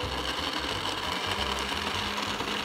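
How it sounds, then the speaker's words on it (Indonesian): A kitchen blender purees soaked dates, giving a loud, steady motor whir with a dense grinding texture that holds constant throughout, with no voices. "Kita blender."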